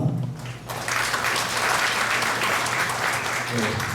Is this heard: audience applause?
yes